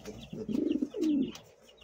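Pigeons cooing in a loft with nesting pairs, two soft low throaty coos close by, one after the other.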